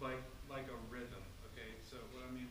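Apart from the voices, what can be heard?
No distinct noise like a dog, phone or traffic.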